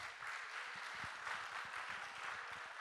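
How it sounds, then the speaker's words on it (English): An audience at a retreat applauds volunteers, quiet, distant clapping from a room full of people that continues briefly with no talk. "Can you give them a round of applause?"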